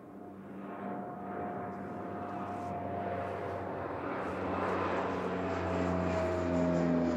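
Air New Zealand flight NZ 180 departing Christchurch for Palmerston North, a faint, distant airliner engine drone with steady tones, slowly building in loudness, no talk.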